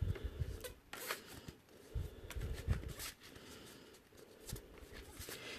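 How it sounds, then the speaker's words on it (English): A deck of oracle cards shuffled by hand at a live card reading, a series of quiet riffling bursts and soft taps in an irregular rhythm, close and without talk. "then we give it a good shuffle"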